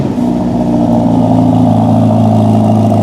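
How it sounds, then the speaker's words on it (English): A Maserati V8 engine runs loud and close, its deep steady rumble holding a strong revving drone with a pronounced low throb throughout. "Let's get the V8."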